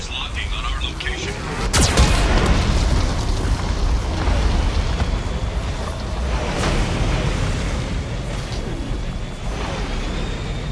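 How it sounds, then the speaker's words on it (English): Geth cannon blasts in the Mass Effect 2 video game, a heavy boom near the start followed by continuous rumbling explosions and crackling impacts, loud throughout under a synthetic warning voice. "Warning, Geth cannon is locking on our location."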